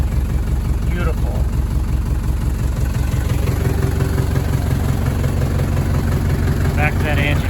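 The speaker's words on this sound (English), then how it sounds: "Back to that engine, you can hear." A 1983 Mercedes W123 240D diesel engine idles with a steady low clattering rumble, close and constant throughout, with faint voices in the background.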